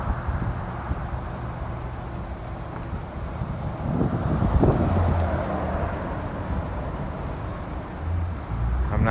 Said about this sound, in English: It is quite windy here today, which is nice because it's a nice cool breeze.